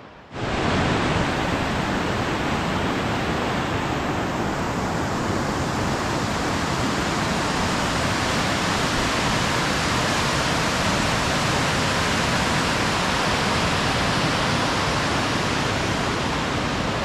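A Swedish waterfall roars continuously from start to finish, a dense, loud, steady rush of falling water with no voices.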